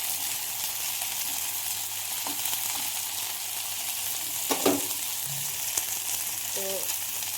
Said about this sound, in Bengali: তো করলাটা লাল লাল করে ভাজতে হবে।